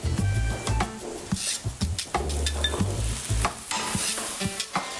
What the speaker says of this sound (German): Ja, das Gemüse wird jetzt noch ein kleines wenig angeröstet, damit eben noch so ein bisschen süße Aromen dazukommen.